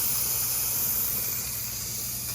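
A steady, close hiss of steam venting continuously from a Carey pressure canner, fairly loud and unbroken, tapering slightly toward the end.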